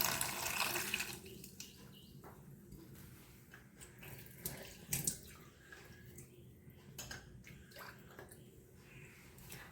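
Water poured from a glass into puttu flour, a splashing pour loudest at the start that trails into softer trickles and scattered small knocks, fairly close and quiet.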